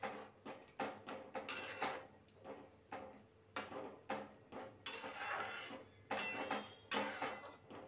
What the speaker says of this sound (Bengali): আমি নাড়িয়ে চাড়িয়ে দিচ্ছি আর ফোটা পর্যন্ত অপেক্ষা করব